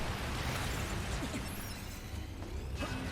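Explosions in the Nier Automata video game erupt as a dense, continuous roar of blasts and crackling debris, with sharper pops near the end, loud and sustained throughout.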